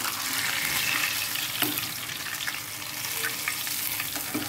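Pomfret (rupchanda) fish fries in hot oil with a steady, dense sizzle and crackle. A few soft clicks break through, and there is no talk.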